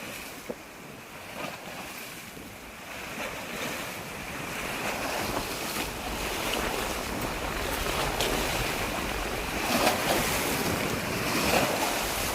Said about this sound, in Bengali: এবার দেখো একটু কিভাবে ঢেউটা হচ্ছে।